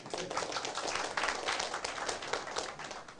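An audience at a Taiwanese legal-studies seminar lecture breaks into steady, dense applause that keeps going evenly for the whole moment, with no voices over it.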